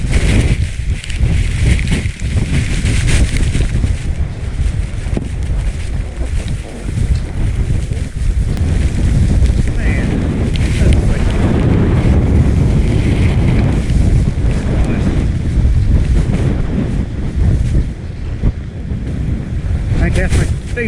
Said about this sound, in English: Man, we're about to get hit by some gusts. It's coming up the mountain right now.